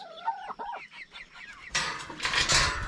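Chickens cluck in a quick series of short calls nearby, followed by louder scuffling and rustling noises.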